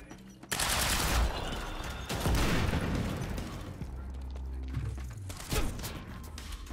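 A grenade blast and bursts of gunfire from a firefight in the video game Quantum Break, loud and dense, with heavy booms and rapid shots overlapping over several seconds.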